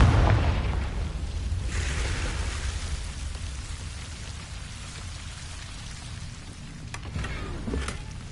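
Confringo fire spell in Hogwarts Legacy: a dull booming burst at the start, then a sustained crackling, hissing rush like fire or falling debris, with a couple of sharp snaps near the end.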